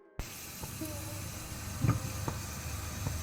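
Garlic cloves dropped into hot coconut oil with popping mustard seeds for a field marrow and green gram curry, giving a steady close sizzle with a few crackling pops.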